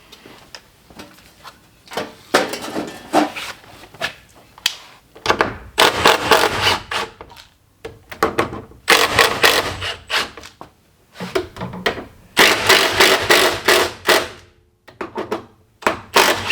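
Hammer blows fasten a wooden board behind a wall for running electrical home-run wiring, coming in irregular clusters of sharp, loud knocks separated by brief pauses, with no talk.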